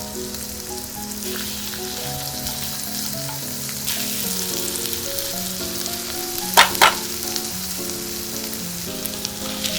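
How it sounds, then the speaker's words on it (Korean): Onion and minced garlic sauté in melted butter over raised heat, a dense, close sizzle like rain on a surface, with a pair of sharp utensil clinks past the midpoint while soft music plays underneath. "불을 좀 세게 올리고 양파랑 다진 마늘을 다 넣고 볶아주세요"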